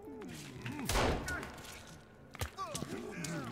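Gunshots in the survival game Sons of the Forest, fired blindly inside a cave: a couple of muffled, scattered shots and thumps mixed with eerie tonal creature cries and background game sounds.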